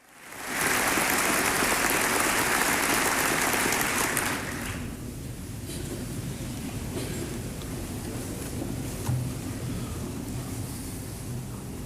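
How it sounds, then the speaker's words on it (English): Sustained bipartisan applause in the U.S. Congress for Netanyahu in 1996: a loud, dense roar of clapping for about four seconds, then dropping to a softer, lingering crowd rumble. "In 1996, after sustained bipartisan applause"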